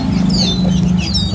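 Young bulbul (kutilang) chicks at a bird market calling from a cardboard box, high thin chirps over a low steady hum, close and fairly loud.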